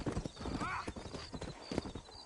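Horse hooves clip-clop steadily in the video game Red Dead Redemption, leaving a frontier town at a slow pace, with a brief whinny and some talk over the hoofbeats.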